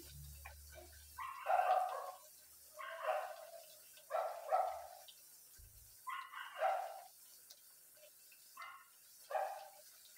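A pet dog barks in a series of short, sharp bursts spread across the stretch, mid-distance and fairly loud, with brief pauses between volleys and no talking.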